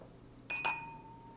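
Two wine glasses clink together in a toast, a single bright chime with a double strike that rings on as a clear fading tone over quiet room noise.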